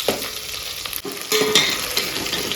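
Small onions sautéing in a pan for wedding-style sambar, crackling and sizzling up close with brisk stirring scrapes that grow louder midway; no one speaks.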